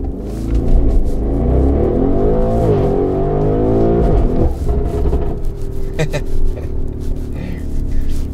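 MTM-tuned Audi RSQ8 SUV with 1001 hp accelerating hard without launch control, a loud, close, sustained engine roar with rising revs and gear changes, settling into a steadier drone near the end.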